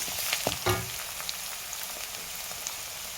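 Ginger, garlic and onion frying in a pan for an okra dish: a steady, close oil sizzle with a few stirring scrapes near the start, then an even hiss.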